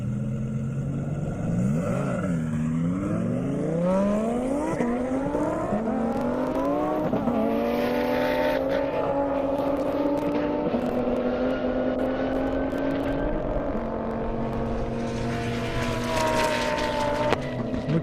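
A drag racing car runs a half-mile airport airstrip at over 240 mph, its engine roaring loud and close, the pitch climbing through repeated gear changes as it accelerates hard, sustained for the full stretch with no talk.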